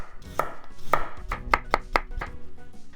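A kitchen knife slices through daikon radish on a cutting board, giving five or six crisp, irregular chops close up with short pauses between them.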